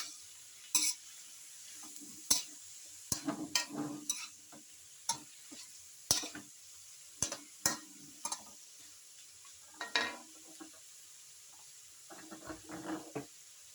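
Pancit canton noodles seasoned with patis being tossed in a pan, with a series of sharp scrapes and clinks from the utensil and brief bursts of sizzling between quiet gaps, close up and without talk.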